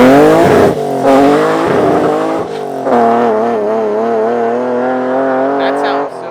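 A BMW E30 with a swapped S52 engine and individual throttle bodies passes close, its loud harmonic engine note rising and falling through gear changes and holding a steady pull, with faint tire noise.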